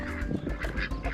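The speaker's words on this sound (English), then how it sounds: "Next up were the duckies" Ducks on a farm in Uganda give loud honking quacks in quick repeated bursts, close and agitated, with no voices.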